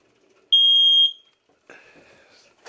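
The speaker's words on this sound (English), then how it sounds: "Another smoke detector." A smoke detector being tested during a home inspection gives one loud, shrill, steady beep of about half a second, followed by a short fainter chirp in a quiet room.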